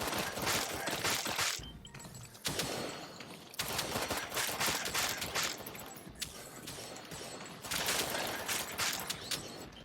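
Dense bursts of gunfire in the VR shooter Sairento fill the stretch, loud and sustained with short gaps, the shots cracking over a busy background of in-game effects and no talk.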